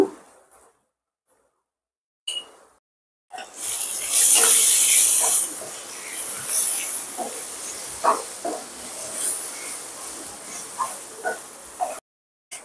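Boiled potatoes with salt and turmeric hit hot oil in a pan, giving a loud, close sizzle that slowly settles into steady frying hiss with small pops; brief talk comes before it.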